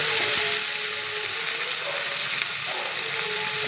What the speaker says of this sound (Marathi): आता मिरची टाकते आणि छान असं हलवून घेते.